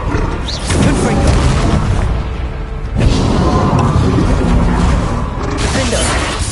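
Confringo spell blasts in the video game Hogwarts Legacy, loud booming explosive bursts layered with mechanical crackle and combat noise, continuous and dense throughout the fight.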